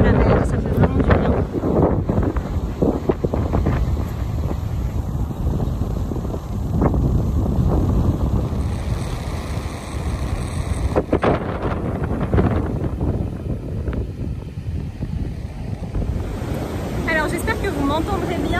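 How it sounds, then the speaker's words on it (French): Sea waves roll in on a beach under strong wind, with a continuous loud roar of surf and wind buffeting the microphone, and a voice speaking now and then. "entre le bruit des vagues et le bruit du vent"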